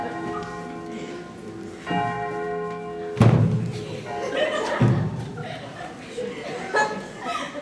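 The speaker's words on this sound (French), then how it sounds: "mes cloches peuvent sonner pour toi" Bells ring out with resonant tones during a stage performance, struck several times with heavy low clangs, mixed with voices and a chuckle.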